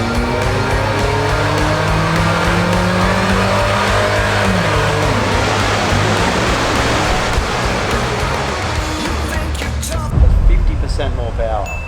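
Supercharged Suzuki Jimny engine droning steadily on a dyno power run, a loud sustained roar with rising harmonic sweeps and a burst near the end, with speech mixed in.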